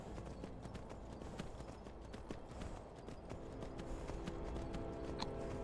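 A horse's hooves clip-clop at a steady, quick rhythm in the VR game Skyrim, moderately faint over a low background hum.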